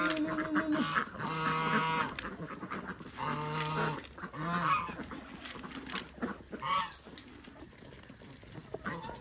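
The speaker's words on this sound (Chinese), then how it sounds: "今天抓六七只鸭子。" Farm ducks raised for eight months quack loudly and repeatedly at close range as they are caught, with a rapid, overlapping burst of harsh calls and scuffling.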